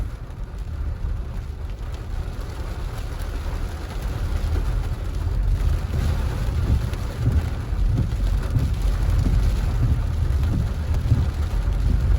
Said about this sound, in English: the rain is coming down